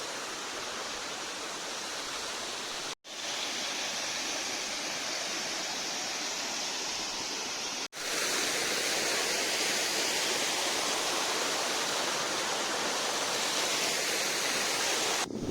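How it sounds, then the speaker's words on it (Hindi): A waterfall at Dinar roars as a continuous, dense rush of falling water, steady and loud with no voices, briefly cutting out twice before swelling slightly louder. "देखिए ये है वाटरफॉल"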